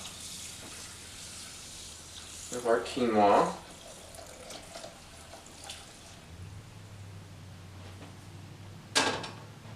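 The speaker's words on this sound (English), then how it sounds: "I'm going to pour that, move this aside, pour that over the top" Warm water poured over quinoa in a home kitchen, a brief splashing pour near the mic with a few quiet clinks and a short knock afterward, under soft speech.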